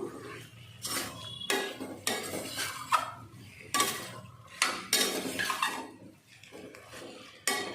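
Chicken pulao stirred in a pan, a metal spoon repeatedly scraping and clinking against the pan in uneven bursts, close and fairly loud with no talking.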